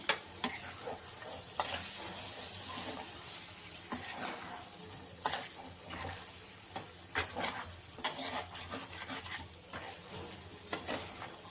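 Chicken fry with mint and coriander sizzling softly on a low flame while a spatula stirs it now and then, with scattered scrapes and taps against the pan over a faint, steady fry.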